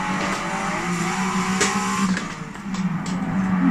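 Race car in Forza Motorsport 7 driven hard out of a corner, its engine note climbing and shifting with brief tire squeal, loud and close.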